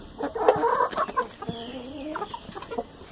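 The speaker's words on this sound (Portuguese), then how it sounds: "Aqui eu vou mostrar a galinha do pé quebrado pra vocês verem." Several chickens at a home poultry yard, one with a broken foot among them, cluck in bursts close by, with rising and falling calls and no talk over them.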